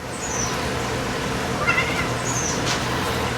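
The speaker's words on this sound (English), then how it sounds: "Stubborn kitty." A stubborn house cat meowing near a chair, two drawn-out high meows a couple of seconds apart over a steady background hiss of outdoor noise.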